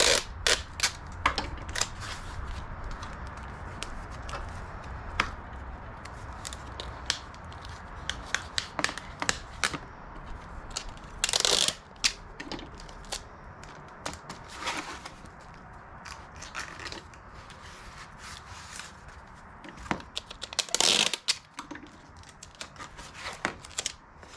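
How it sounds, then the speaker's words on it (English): Packing tape is pulled and pressed to seal a thin cardboard mailer holding a map. Close, irregular rubbing and sharp crackles come in bursts, with a few louder tearing rips. There is no talk. "And then I tape that shut really tight."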